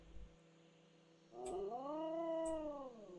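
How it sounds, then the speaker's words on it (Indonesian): A cat in a video game gives one drawn-out, wavering meow, loud and close, set against a quiet low hum with a couple of soft thumps. "Suara kucing, guys."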